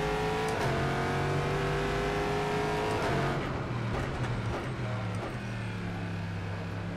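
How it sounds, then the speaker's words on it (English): A Corvette race car close to its GT3 version, driven in the rFactor 2 sim, holds a loud steady engine drone that rises and falls through gear changes with a brief tire squeal, no talk over it. "this sounds close to the GT3 version of the Corvette"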